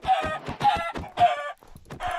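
Chickens in Minecraft cluck in a quick series of four short, clipped bursts at fairly even spacing, close and clear with no talk over them.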